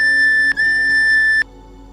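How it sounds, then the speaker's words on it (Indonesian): A train driver's whistle sounds in a coded pattern: a loud, steady high tone held for about half a second, broken by a brief gap, then sounding again for nearly a second before cutting off to a low hum. "Peluit yang pertama berbunyi."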